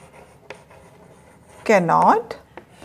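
Teacher writing answers by hand for an English class, faint scattered pen taps and strokes at close range, interrupted by a brief voiced sound from a person.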